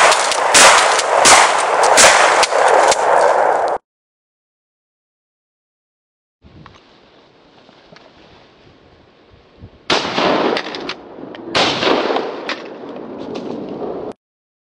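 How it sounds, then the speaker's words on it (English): Loud gunshots crack out in rapid clusters as a shotgun is fired at stationary objects during grouse hunting practice, with a long silent gap and a quieter stretch before more shots ring out. "Shooting stationary objects just to get familiar."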